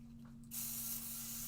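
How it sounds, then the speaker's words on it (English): Pixie spray misted from a spray bottle onto cardstock through a stencil: after a short quiet moment, one sustained, close hiss begins and holds steady to the end over a low background hum. "And I'm going to spray it on there"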